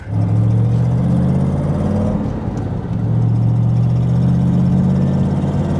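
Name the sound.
1967 Corvette C2 Stingray engine while driving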